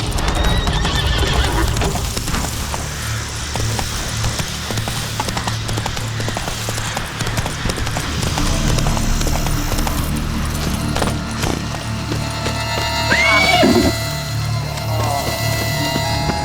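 Roach the horse from The Witcher 3: Blood and Wine gallops at full pace, a steady drumming clip-clop of hooves under game music and ambient noise, with a whinny rising near the end.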